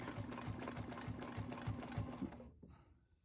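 A sewing machine stitches an angled border pattern on a quilt in a steady, fast rhythmic run of needle strokes with a motor hum, close and fairly loud, before stopping abruptly near the end.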